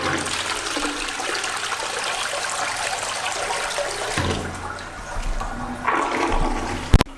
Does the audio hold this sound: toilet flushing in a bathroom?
yes